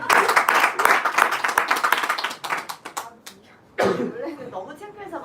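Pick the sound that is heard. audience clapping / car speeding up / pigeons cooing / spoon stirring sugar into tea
audience clapping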